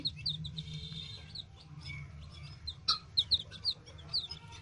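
Small chicks peep in quick, high chirps, scattered at first and then clustering into a rapid series, fairly close over a quiet low hum.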